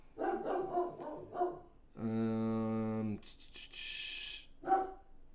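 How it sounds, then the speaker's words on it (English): Dogs bark in the distance, short barks mixed in with someone talking nearby and a couple of brief tonal electronic sounds. "I hear him waking y'all's dogs up."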